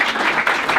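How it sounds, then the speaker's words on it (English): Dense, loud applause from a crowd at a football club player of the year awards night, steady continuous clapping close by. "Big round of applause."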